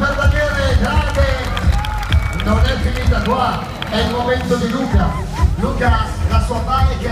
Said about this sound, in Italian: È un grande applauso per Daniele